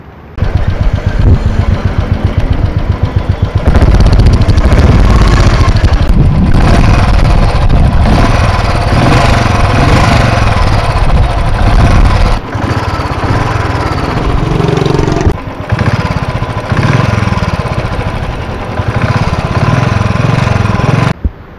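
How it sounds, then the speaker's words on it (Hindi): A motorcycle engine runs loud and close with a steady idle rattle and a few brief revs, heard before fuel line cleaner is added. "ये आवाज़ जो अभी आप सुनने जा रहे हैं, ये है उस समय की आवाज़ जब मैंने ये फ्यूल लाइन क्लीनर अपनी बाइक में नहीं"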